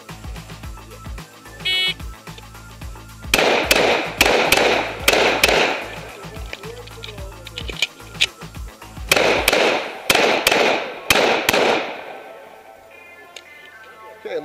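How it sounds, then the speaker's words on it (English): Pistol shots fired at targets during an IDPA classifier stage, heard from the shooter's helmet camera: loud, sharp reports in two quick strings of about five to six shots each, separated by a pause. "draw, and fire two shots from each target"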